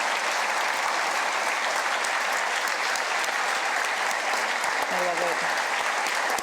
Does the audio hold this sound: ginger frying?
no